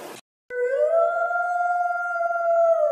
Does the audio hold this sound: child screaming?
no